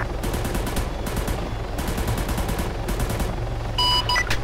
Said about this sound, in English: Fire mission, I need 2 HE rocket strafes along by the church in the center of Pyrgos.